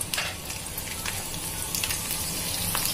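Homemade prawn cracker strips (zinga papad) dropped into very hot oil fizz with a dense, steady sizzle and bubbling crackle, close and continuous with no voices.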